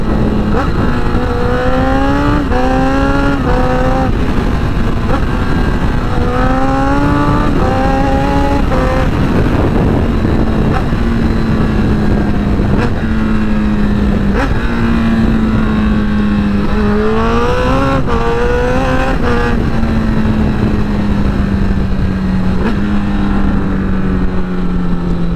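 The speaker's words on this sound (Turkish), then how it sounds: "Egzozun sesi tedavi ya." A motorcycle exhaust revs and drones loudly and close for the whole stretch, its pitch climbing and falling through repeated throttle blips and gear changes, with a steady engine note underneath.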